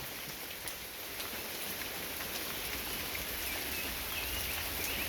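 Steady rain falling on surfaces, a constant hiss with scattered drops, no voices, even loudness throughout.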